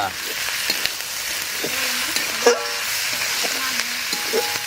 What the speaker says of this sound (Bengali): যে মশলাটা কাকিমা বেটেছিল সেটা এখন দিয়ে দিচ্ছে